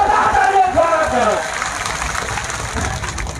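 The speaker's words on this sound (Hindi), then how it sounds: "जोरदार तालियां, ये बासी रोटी वाली तालियां नहीं, पटियाली वाली तालियां" A crowd at a public political rally in Kasganj breaks into applause and cheering, a loud dense roar of clapping and shouting that swells at the start then settles, with a voice calling out over it.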